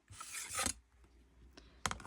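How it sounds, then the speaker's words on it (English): Cutting along the edge of a fabric quilt block, a short raspy slice followed by two brief snips, close and quiet with no talking. "I'm just trimming off that edge"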